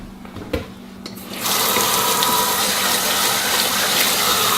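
Hot water gushing from a kitchen tap into a sink, a few clicks and a thump before the flow starts, then a loud steady rush that continues to the end.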